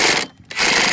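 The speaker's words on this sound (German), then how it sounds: "das ist jetzt der Akkuschrauber zum Festschrauben und zum Losmachen der Schraube" A cordless drill/driver working a propeller screw on an OS Max FS120 model engine gives a loud, harsh buzzing rattle that cuts out briefly and then resumes at full strength.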